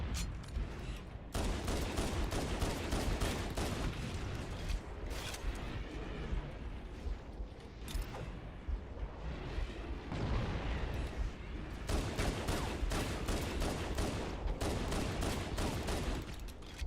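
Rapid pistol gunfire in Halo: Combat Evolved Anniversary, a steady stream of loud, dense shots with little pause, blending into booming explosion-like blasts throughout.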